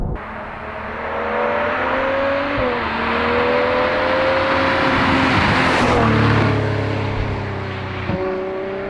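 A Ferrari 812 Superfast engine revs steadily up and down in a low, sustained note that rises and dips several times, loud and close, with no talk over it.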